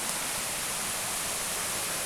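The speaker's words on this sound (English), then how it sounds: "15 yards from the river just now, and I'm going to take a few steps down towards it because it actually is quite noisy today" A noisy river flowing close by near the Douglas Hotel, a dense, steady roar of rushing water with no voices, constant and loud throughout.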